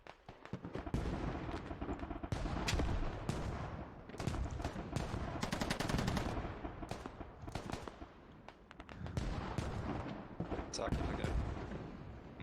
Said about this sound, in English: Nice work with the mortars,